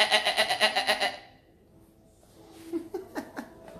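A person imitates a goat, giving a loud, rhythmic, wavering bleat that fades out, then breathy laughter follows.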